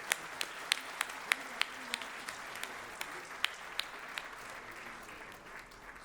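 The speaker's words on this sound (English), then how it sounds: "So a big round of applause for CA Ankur Aggarwal." Audience applause for a keynote speaker at a chartered accountants' event: scattered, fairly faint claps ringing over a soft hall murmur, thinning out toward the end with no talk.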